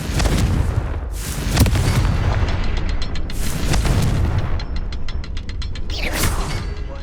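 Confringo spell explosions in Hogwarts Legacy boom repeatedly, with heavy blasts followed by rapid ticking, ratcheting magical crackles and a rising whoosh near the end.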